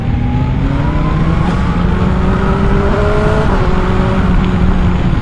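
A 165 hp motorcycle is ridden through town. Its steady engine drone rises and falls in pitch as the rider shifts and accelerates, mixed with traffic roar and close wind rush, and no one speaks.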